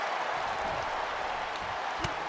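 A crowd in an AEW wrestling video game keeps up a steady, dense roar of cheering and noise throughout, with a brief sharper spike near the end.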